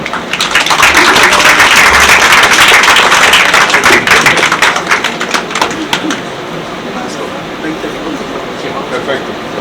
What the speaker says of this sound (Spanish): pido un caluroso aplauso